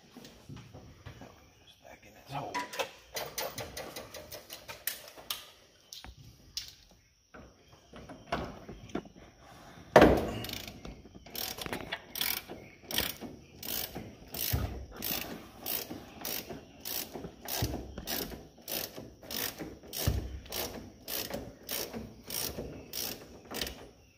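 A socket ratchet wrench clicks in rapid repeated bursts while a brake line is loosened and removed from a 1956 Chevrolet sedan, close and fairly loud, with a brief louder clunk partway through and some talk mixed in.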